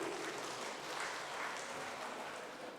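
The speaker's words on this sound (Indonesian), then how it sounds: "Tepuk tangan untuk GKPI." A church hall audience applauds in a continuous wash of clapping, moderately distant and even in level, with no voices standing out.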